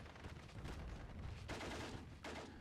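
MG42 machine gun fire in the World War II strategy game Steel Division 2, dense rattling bursts layered with other battlefield gunfire, loud and continuous with two sharper volleys standing out.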